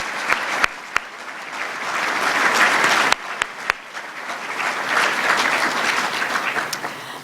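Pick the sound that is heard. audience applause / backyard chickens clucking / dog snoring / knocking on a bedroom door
audience applause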